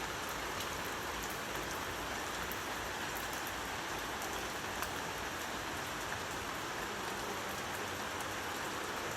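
Torrential rain falling after a spell of extreme heat, a constant thick roar of drops striking surfaces close by, unbroken throughout with no one speaking.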